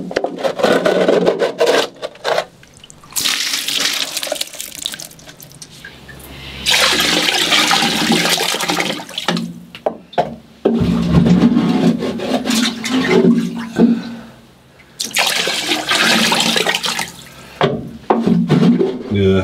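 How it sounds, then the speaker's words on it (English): Sloshing, pouring bursts of oily bilge water and sludge being bailed into a bucket aboard a steel trawler, loud splashy stretches separated by pauses, with some talking in between. "it's already a bucket load full of oily water and sludge"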